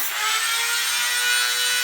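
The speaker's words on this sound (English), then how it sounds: "coming through with the Dremel tool, and he's getting them better" A Dremel rotary tool grinds slate tile edges with a close, steady high-pitched whirring and abrasive rasp, continuous over a short burst with no speech.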